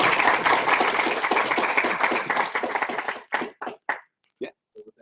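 Conference audience claps after a talk: dense applause for about three seconds, then it breaks up into scattered single claps that fade out, with a voice briefly heard near the end.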